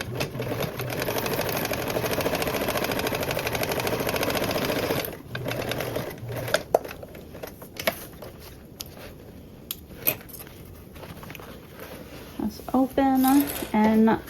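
Sewing machine stitching duffle bag panels, a loud steady whirring run for about five seconds, then short bursts and clicks as the work is handled, followed by a voice speaking near the end.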